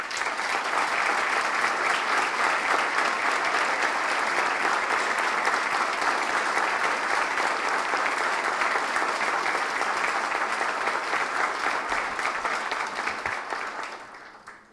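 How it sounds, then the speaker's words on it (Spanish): Sustained, dense audience applause at a book launch, steady and full for around thirteen seconds before tapering off at the end. "pido que nuevamente me acompañen para tributarle un aplauso"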